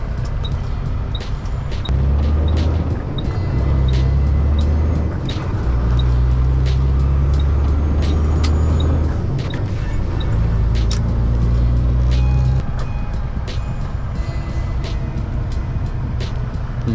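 Rush-hour street traffic in Montreal, with cars, trucks and buses rumbling past in heavy low drones that swell and fade, while faint repeated beeps sound in the background.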